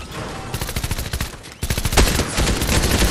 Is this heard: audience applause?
no